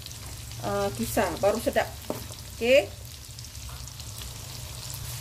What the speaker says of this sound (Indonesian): Jadi kita goreng dulu ni sampai dia agak sedikit layu ya.